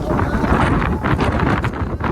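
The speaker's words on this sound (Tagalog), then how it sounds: "Sobrang hangin." Strong wind buffets the microphone on a mountain trail at Mt. Batulao, a loud, continuous roaring rush with ragged gusts throughout.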